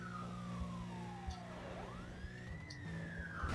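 Police car sirens in the Need for Speed World racing game, a wailing tone sweeping down and back up over a steady engine drone, moderately loud throughout.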